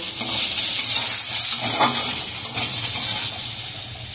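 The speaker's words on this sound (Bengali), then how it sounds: "এবার আমি বেগুনটাকে ভাজছি।" Eggplant fries in hot oil for a Bengali shukto, a loud, steady close-up sizzle with light stirring scrapes running throughout and no voices.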